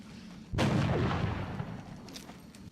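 In the video game XCOM: Enemy Within with the Long War mod, a single weapon shot fires as a sudden loud blast that rumbles and fades over about two seconds.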